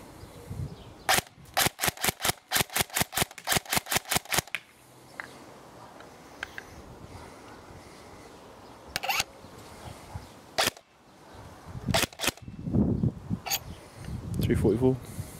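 An upgraded CQB Sopmod M4 airsoft rifle with a LiPo battery fires a rapid burst of about fifteen sharp, close shots, followed by a few single shots and handling clicks, with someone talking afterward.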